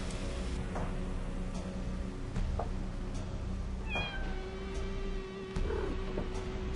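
Cat meowing in the point-and-click video game Chaos on Deponia, a few drawn-out meows rising out of busy background ambience with scattered ticks, fairly clear and alone without speech.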